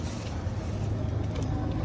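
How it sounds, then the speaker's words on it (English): An air pump filling car tires at a roadside stop, a steady low droning hum with constant hiss and nearby engine rumble, unbroken throughout. "Putting air in our tires"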